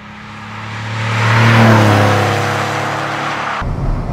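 A 1997 Porsche 993 Carrera 4S engine pulls hard while driving, its flat-six note rising to a loud rev peak and then holding a steady drone before an abrupt shift.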